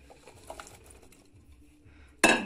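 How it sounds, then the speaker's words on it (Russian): Potatoes are added to a pot for quick pea soup: soft kitchen clatter and faint taps lead up to one sharp, loud clank of something dropped into the metal pot near the end. "и сейчас я добавляю картофель сюда"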